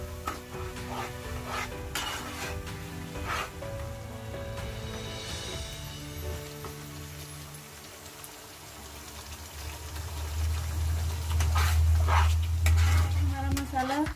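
Chana masala spices frying in a pan over a medium flame, with steady stirring scrapes and a low sizzle that grows louder and fuller toward the end, with no voices.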